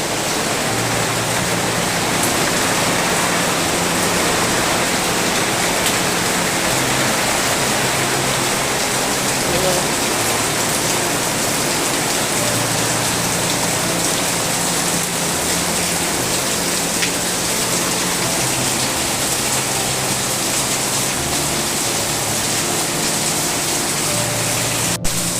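Heavy monsoon rain pours without a break, a dense, loud, close roar heard from a home gallery, with faint speech under it.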